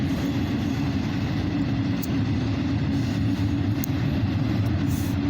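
Steady low rumble of a train rolling along railroad tracks, continuous and fairly loud throughout with no voices.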